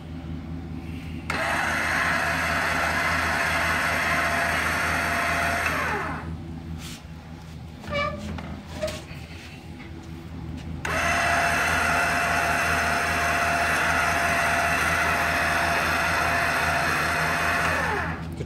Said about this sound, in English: I have this lift here. It's a trailer jack lift.